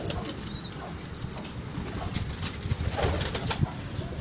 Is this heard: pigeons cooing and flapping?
yes